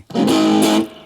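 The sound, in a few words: guitar amplifier distortion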